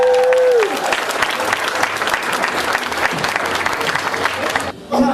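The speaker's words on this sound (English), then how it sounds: "please give a warm round of applause for Lindsey." An audience applauds a stylist at a beauty school event, the clapping dense and sustained. A sustained tone at the start cuts off early on, and a short dip near the end is followed by the applause resuming.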